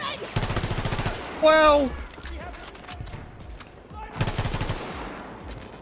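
Rapid automatic gunfire from a VHX-D3 rifle during a Battlefield 2042 gunfight, in two dense bursts with a quieter stretch between them. A player briefly exclaims over the game audio.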